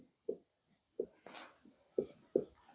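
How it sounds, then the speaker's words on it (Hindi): Lines being written on a board: about four short, scratchy strokes, close and fairly quiet, spaced out with brief pauses between them. "मैं दूसरी लाइन लिखता हूं"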